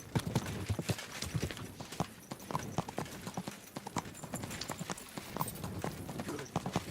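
Horse hooves clip-clop steadily in the medieval video game Kingdom Come: Deliverance II, a brisk rhythmic trot with game sounds and some speech mixed over it throughout.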